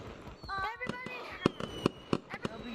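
Fireworks bursting close by in a VR video game: a string of sharp pops and bangs in quick irregular succession, with chatter and a whistling tone around them.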